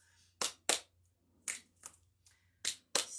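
A single person alternates finger snaps and hand claps in a quiet room, about seven crisp, close strikes in an uneven rhythm with short silent gaps between them.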